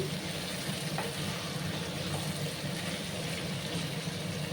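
Vegetable chorchori being stirred in a pan, a steady close sizzle and frying hiss with faint scraping of the spoon, alone with no talk.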